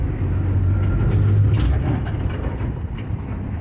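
Restored 1953 Chevy 3100 pickup with a faulty transmission, driving in third gear: a steady low engine drone with road rumble, heard from inside the cab.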